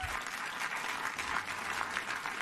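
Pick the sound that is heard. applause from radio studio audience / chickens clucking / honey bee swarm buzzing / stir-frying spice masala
applause from radio studio audience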